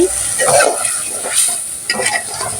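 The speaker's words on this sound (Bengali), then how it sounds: "এদিক দিয়ে আমি লাউ তরকারি বসাইছি" Bottle gourd curry sizzling in a frying pan while being stirred, with a steady high hiss and several soft scraping stir strokes at close range.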